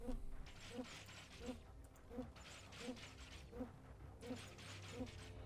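A swarm of wasps attacking in the airship battle game Airships: Conquer the Skies, heard as a dense insect buzz with a repeating rhythmic pulse of wingbeats and mechanical clicks, continuous and fairly quiet throughout.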